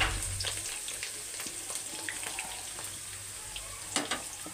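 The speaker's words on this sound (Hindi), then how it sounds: "अब पहले प्याज डालेंगे" Onions frying in hot oil with spices for a chicken stew, giving a continuous close sizzle with small pops and a few stirring clinks toward the end, without speech.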